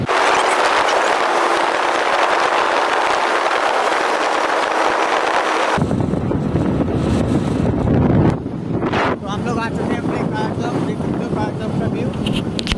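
A motorbike rides along with heavy roaring wind buffeting the microphone, loud and continuous, then the wind noise drops and engine rumble with someone speaking comes through.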